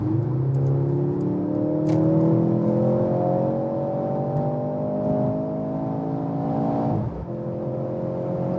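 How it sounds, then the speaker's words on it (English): Performance sedan accelerating hard on the Autobahn, a loud continuous engine note climbing steadily in pitch through the gears, with a brief dip at a shift near the end, heard from inside the cabin with no talking. "So let's go to the next Autobahn here. Another acceleration."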